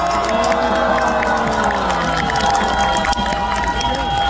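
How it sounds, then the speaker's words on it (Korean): A large outdoor crowd at a presidential campaign rally in Seoul Station Plaza cheers and shouts over clapping, a loud continuous roar with voices rising and falling throughout. "여러분 박수 한번 크게 보내주세요"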